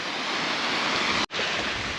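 Water pours down a cliff in snowy New Zealand as a loud, close, steady rushing roar with no voices, cut by a brief dropout partway through.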